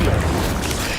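A short, dense burst of roaring fire from the Incendio spell being cast in Hogwarts Legacy. It lasts about a second, loud and close, with a low rumbling boom throughout.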